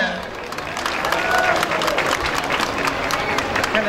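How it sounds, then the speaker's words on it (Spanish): Crowd applause at a live norteño concert in Gómez Farías, Tamaulipas, steady dense clapping with some cheering and murmuring under it, building slightly midway. "Y que se oiga fuerte el aplauso en esta noche"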